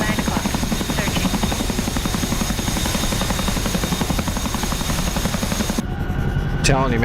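A helicopter's rotor thumps in a loud, rapid, steady beat, heard close and continuous, with the sound cutting off sharply near the end as a tone sweeps through.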